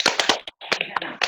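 A small gathering claps hands after a call to applaud at a community talk, giving a short burst of sharp, uneven claps with brief gaps, close and fairly loud, with no talking over it.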